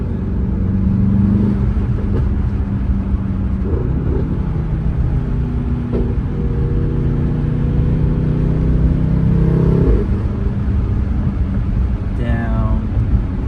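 Straight-piped Mercedes-AMG GT63s engine heard from inside the car while driving at night, a loud steady rumble with rising and falling drones as it shifts, a brief higher sweep near the end, under ongoing conversation.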